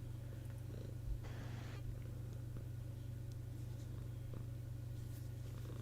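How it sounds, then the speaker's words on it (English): A cat purrs steadily and softly close by, a continuous low rumbling vibration with a brief rustle partway through, under a faint background hum. "Gaming kitty. It's purring away."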